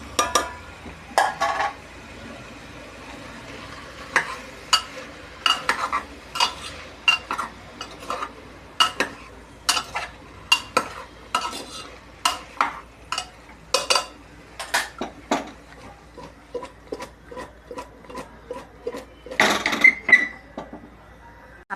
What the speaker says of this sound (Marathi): आपल्या भाज्या आता परतून झाल्यात